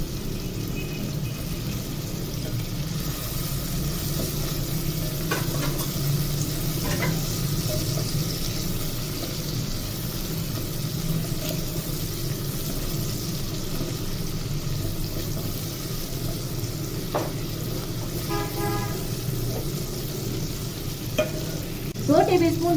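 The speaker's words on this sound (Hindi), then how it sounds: "इतना भूने कि टमाटर सॉफ्ट हो जाए।" Chopped tomatoes fry in a pan for dal tadka while a spoon stirs them: a continuous close sizzle with periodic scraping strokes and a few clinks of the spoon against the pan, no voices.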